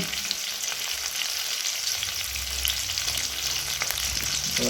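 Potatoes seasoned with turmeric and salt sizzle in hot oil, a steady close frying hiss broken by soft scraping as a spatula turns them, with no voices.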